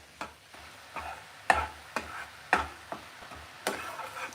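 Puffed rice being stirred into melted jaggery syrup in a pan while making laddoos, giving a series of soft scraping, rustling stirs at an uneven rhythm, close by, with no talking.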